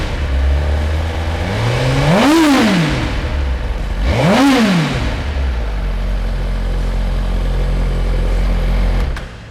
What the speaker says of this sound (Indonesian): Kita coba gas nih